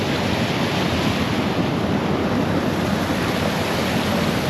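Rushing white water of a monsoon-swollen river near Ama Yangri, a loud, dense, unbroken roar that stays steady and close throughout.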